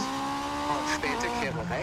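A two-litre rally car in EA Sports WRC revs high, its engine whining at a sustained pitch that climbs and then drops as the gears shift. Someone talks over it.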